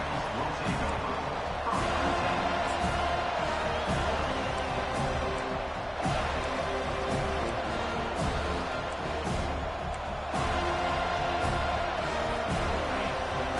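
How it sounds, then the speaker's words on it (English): A dense, roaring crowd at a football stadium fills the space continuously, loud and sustained, with occasional sharper bursts of noise. "listen to this crowd noise. This stadium is vibrating"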